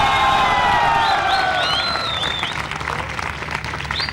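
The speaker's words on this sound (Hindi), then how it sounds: "स्वागत कीजिए तालियों के साथ हरभजन सिंह और एंड्रू साइमंस का।" A studio audience applauds and cheers to welcome guests on a TV chat show, loud and sustained, with whoops and rising whistles over the clapping.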